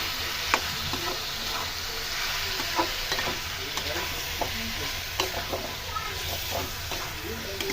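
Spice paste for a vegetarian mushroom curry fries in oil with a constant hissing sizzle, punctuated by repeated spatula scrapes and taps while it is stirred.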